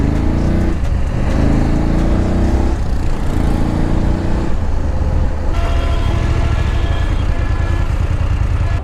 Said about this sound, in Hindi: आज भी ट्रैफिक बहुत है यार यहाँ